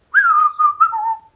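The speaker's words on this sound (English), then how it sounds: "I can whistle." A person whistles a short, clear tune of a few notes lasting just over a second, close and loud in an otherwise quiet space.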